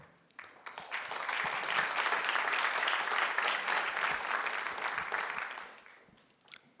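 An audience applauds award winners at a community report event, a dense sustained burst of clapping that swells quickly, holds steady for several seconds, then fades away, with no talking.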